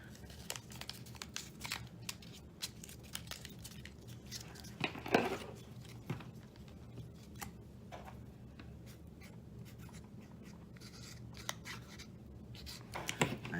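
Masking tape being torn and handled and a marker writing on it to label a wiring plug from a Ford 5.0 EFI harness, soft close crinkles, tape rips and scratchy pen strokes in a quiet room.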